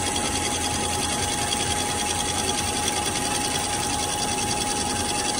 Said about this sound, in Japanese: アルミの丸棒を、機械に取り付けて回転させます。